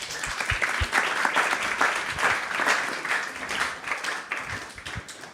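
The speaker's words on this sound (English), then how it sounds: "you can clap" Audience at a youth gathering giving sustained applause, a full room of many hands clapping steadily and fairly loudly for several seconds with a few nearer claps standing out.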